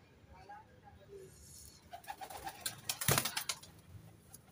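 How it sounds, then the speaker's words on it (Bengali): Madras pigeons coo softly in a loft, with low murmuring calls and some rustling and bursts of sound around them. "এসব পায়রা আমার উড়াই পায়রা, পুরো একদম উড়াই পায়রা"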